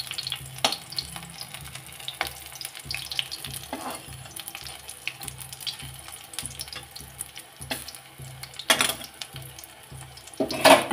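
Banana flower pakoras fry in a pan of oil over medium heat, giving a soft crackling sizzle broken by clinks and scrapes of a utensil, close and moderately loud.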